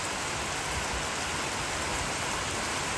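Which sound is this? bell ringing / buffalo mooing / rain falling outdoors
rain falling outdoors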